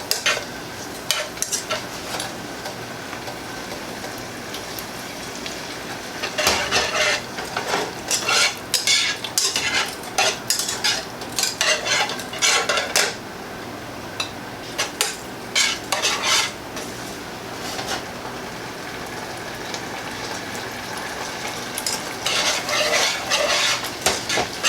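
A utensil stirs xanthan gum into a keto gravy mixture in a pan on the stove, with repeated bursts of scraping and clinking against the pan over a faint sizzle, close and with no talk.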